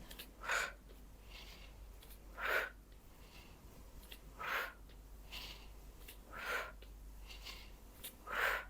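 Slow, heavy breaths during exercise come at regular intervals, about every two seconds, each a loud rushing exhale standing out against a quiet background.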